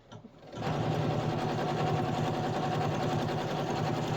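Sewing machine fitted with a binding foot stitching binding onto a gnome table runner quilt, a steady loud mechanical whir running continuously after a brief quiet start, close up and alone.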